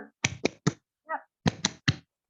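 A classroom clapping chant led by a teacher: two quick groups of three crisp, close hand claps separated by a short sung or spoken syllable, in a tight rhythmic pattern.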